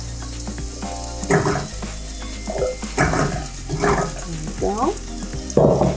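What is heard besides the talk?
vegetables sizzling as they are added to hot oil in a pot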